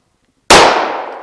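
A single sharp, loud gunshot fired at an NP550 ballistic steel PASGT-style helmet cracks after a moment of silence, then decays into a short ringing tail.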